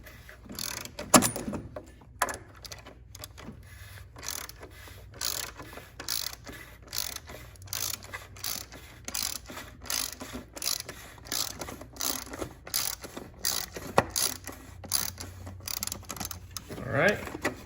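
Ratchet clicking while loosening a part during an oil change on a Fiat 124 Spider Abarth, a close, quiet run of repeated pawl clicks in short steady bursts, with a voice speaking briefly.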